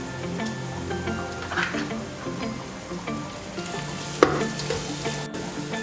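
Ginger-garlic paste fries in oil with onions and green chillies for a Guntur-style fish curry, giving a quiet, steady sizzle and crackle, with the occasional scrape and clink of a stirring spoon and no talking.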